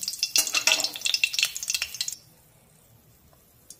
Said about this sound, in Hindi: 3-4 हरी मिर्च को हम तल ले रहे हैं